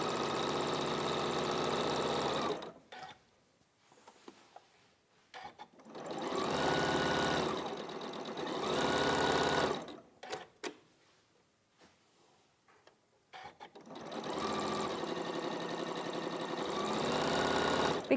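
Several bursts of fabric pieces being stitched on a sewing machine come through close and clear: a rapid, even motor hum separated by near-silent pauses.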